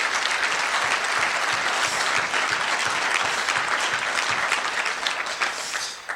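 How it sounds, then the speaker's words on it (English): An audience claps in dense, sustained applause for industry influencers at a business event, steady and loud before tapering slightly at the end. "if we could give a massive round of applause for all the influencers like Stan and Keith and Brian"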